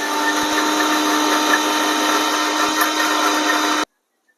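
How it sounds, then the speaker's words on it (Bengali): A kitchen mixer grinder blends coriander, garlic and green chilli into a paste, a loud steady motor whine with a brief clatter at the start, running continuously for a few seconds before cutting off abruptly into silence. "যে যে ইনগ্রিডিয়েন্টস গুলো বললাম সেগুলো একটু মিক্সিতে পেস্ট করে"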